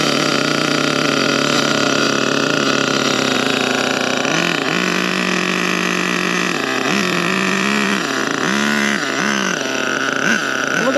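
A nitro engine in an HPI Savage RC monster truck runs loudly and close for the whole stretch, a buzzing idle that rises and dips in pitch with several short revs toward the end.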